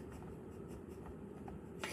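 A pencil drawing on paper, heard as faint scratchy strokes in short bursts against a steady background hiss, ending in a slightly louder rustle.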